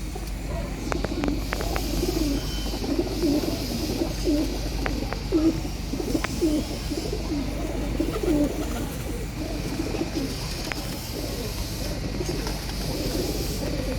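Rampuri pigeons coo in soft, repeated low rolling calls at close range, with several birds overlapping over a steady background hum, accompanied by occasional faint chirps.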